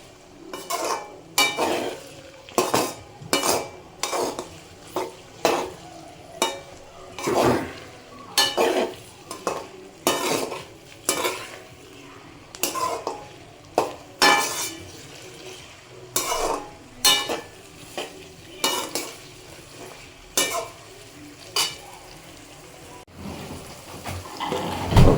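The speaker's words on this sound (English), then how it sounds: "Stir fry." Chicken biryani ingredients being stir fried in a pan over high flame, with rhythmic scraping and clattering of a utensil against the pan repeated steadily under a low sizzle.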